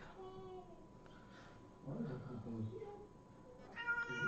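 A pet cat meows for its pâté, giving a few drawn-out, nearby calls, with someone speaking French in between.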